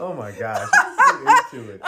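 A dog gives a few short, close yips and barks in quick succession, mixed in with a person talking nearby.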